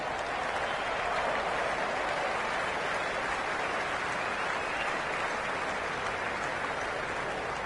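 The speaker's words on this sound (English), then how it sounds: "It's evident and ever so audible that the crowd is at near bursting point at today's play." A cricket crowd in a Lahore stadium applauds during the final of an India vs Pakistan T20 series, a steady, dense roar of clapping that lasts throughout.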